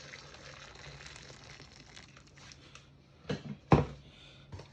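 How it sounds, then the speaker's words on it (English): A low steady water hiss runs quietly, then a couple of sharp splashing gushes burst in near the end as freshly boiled water is poured over ponmo (cow skin). "You add fresh boiled water"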